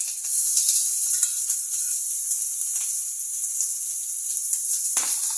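Sliced onions sizzle in hot oil in a pan for egg keema, a steady bright hiss with faint crackles and a brief stir near the end. No one speaks.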